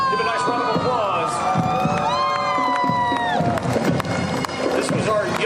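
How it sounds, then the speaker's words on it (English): Parade crowd at a Pearl Harbor memorial parade cheering and clapping loudly, with whoops, shouts and children's voices over a continuous roar, as a brass or musical tone sustains in the background. "Give a nice round of applause."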